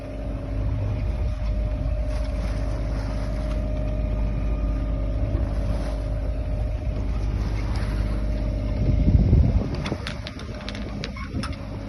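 A sailing yacht runs under engine power along the coast near Fowey in light wind, its motor giving a steady low drone with water wash and a brief louder surge near the end.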